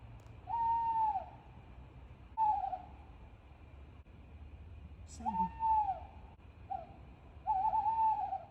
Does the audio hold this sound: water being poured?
no